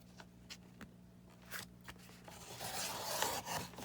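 Scissors cutting apart collaged cardstock: a few soft, separate snips early on, then a longer, denser rasping cut that builds and stays close and quiet with no talking.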